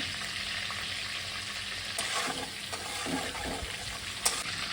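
Cardamom, cloves and a bay leaf sizzle in hot oil, a steady, close frying hiss with occasional stirring scrapes and a single sharp tap near the end.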